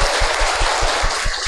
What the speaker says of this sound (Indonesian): teman-teman boleh kasih tepuk tangan sekali lagi